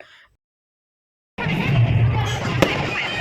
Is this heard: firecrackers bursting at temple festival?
yes